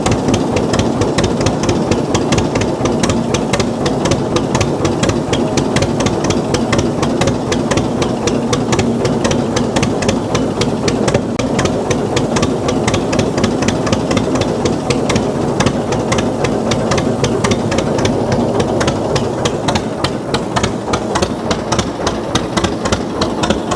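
A 1948 John Deere D two-cylinder tractor with a straight pipe idles loudly up close, each firing pulse a hard, even pop that forms a fast, steady chuffing beat throughout.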